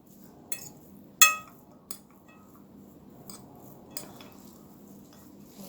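Vegetable salad with raisins being tossed together in a bowl: sparse, irregular clinks and taps of utensils against the dish, one sharp louder clink among quieter knocks, over a faint background.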